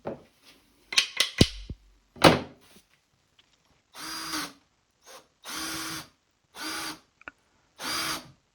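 Power drill countersinking screw holes in wooden modular model railroad benchwork, heard as several short separate bursts of whirring with brief knocks between them, fairly close and alone.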